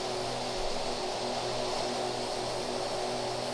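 Propeller drone of an Aerosoft OV-10 Bronco twin-turboprop aircraft in the FSX flight simulator, a steady, loud, continuous engine hum with a broad airy roar and no talk.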